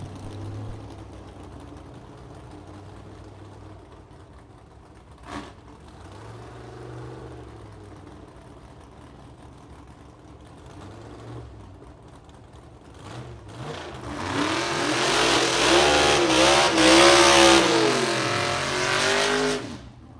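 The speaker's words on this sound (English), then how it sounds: "Brian Blasey of Lake Zurich, Illinois, a 1940 Chevy Coupe. This is an original gasser, first raced by Gary Blasey," A 1940 Chevy Coupe original gasser at a vintage drag race, first heard faintly at a distance, then roaring loudly as the engine revs and accelerates hard down the strip near the end.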